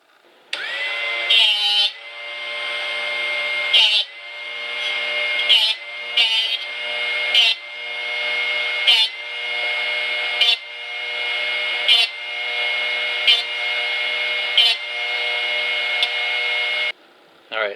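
A Drill Doctor motor whines loudly in repeated bursts while sharpening a drill bit. The pitch shifts and dips in a regular rhythm each time the bit is rotated against the grinding wheel.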